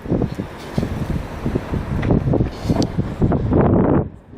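Strong wind blows outdoors in Winton, Queensland, buffeting the microphone in gusty, uneven rumbles that swell and ease throughout, loudest toward the end.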